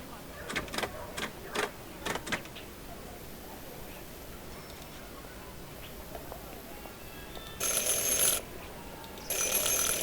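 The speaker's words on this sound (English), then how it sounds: "Ring 3 times for urgent matters." A bell rung in the video game Syberia 4, several sharp ringing strikes early on, then bursts of a shrill metallic ring later over a quiet room tone.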